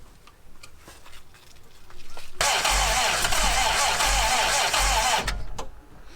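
A Triumph car engine cranks and catches after carburetor assembly, a sustained loud roar lasting about three seconds before cutting out, preceded by quiet ticking and faint shop noise.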